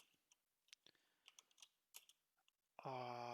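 Scattered keystrokes clatter on a computer keyboard, irregular soft clicks spread across a few seconds before a sudden loud tonal burst at the end.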